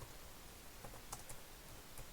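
Faint, sparse clicks of a computer keyboard being typed on, a few light keystrokes scattered over a quiet background.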